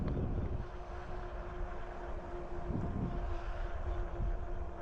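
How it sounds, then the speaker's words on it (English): Steady low rumbling wind buffets the microphone for several seconds, a constant blustery roar with no voices. "So it's getting a little windy, and I'm not wired up with a microphone"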